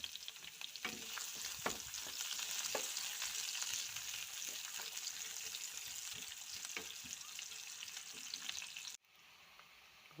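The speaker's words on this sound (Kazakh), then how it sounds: "Бұған енді пиязымызды салып қуыратын боламыз." Onions fry in heated oil, a steady, close, dense sizzle with faint stirring clicks that continues for several seconds before suddenly dropping to a quieter hiss.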